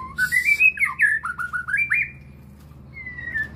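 A white-rumped shama (murai batu), a male in early breeding condition with a female nearby, sings a run of loud, clear whistled phrases. After a short pause, one softer whistle follows.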